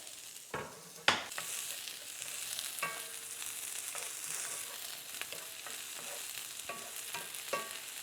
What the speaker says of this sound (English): Then we're gonna add our aromatics here because we're gonna fry up our tofu and do this for a minute